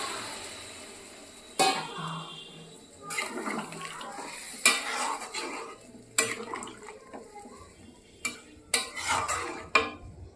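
Hot water goes into an egg curry (dimer dalna) in a pan, with several short bursts of splashing and pouring broken by clinks of a utensil, fairly soft and close.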